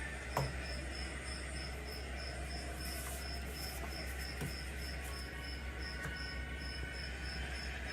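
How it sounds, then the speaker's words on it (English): Crickets chirp in a regular pulsing train over a steady low background hum, the chirps continuous and moderately loud throughout with no voices. "Crickets, David?"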